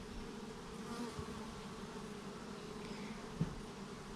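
Bees gathered around a garden water bowl in a backyard hive setting; a soft, steady buzzing drone close by, with a faint low hum underneath and a brief bump near the end.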